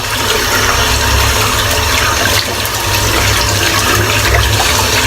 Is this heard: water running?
yes